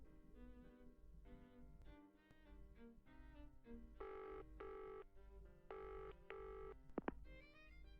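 A telephone call to emergency services rings out in a repeating sequence of electronic tones, fairly faint, with short pauses between bursts and a brief sharper blip near the end.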